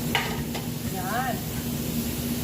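Tomato and onion being sautéed with meat in a pan for an Arabic dawoud basha dish, giving a soft steady sizzle with light stirring scrapes, a brief voice murmuring partway through.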